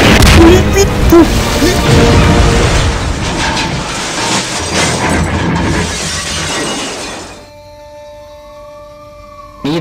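A video game battle has a loud, dense stretch of gunfire, blasts and shattering debris from an RPG rocket and its explosion, with a siren wailing before the noise drops to quieter game tones.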